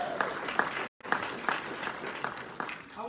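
Audience applause at a speaking event, a moderate round of clapping from a modest crowd with distinct individual claps, briefly cut off by a silent dropout near the start.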